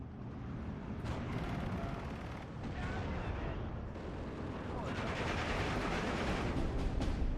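Jagdpanzer tank destroyers fire on Shermans in the World War II strategy game Steel Division 2, with heavy booming shots and rumbling blasts over a dense, continuous battle din.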